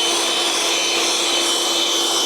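A MekiPow battery-powered diatomaceous earth duster blower runs continuously up close, giving a steady loud whooshing whir that holds level from start to finish.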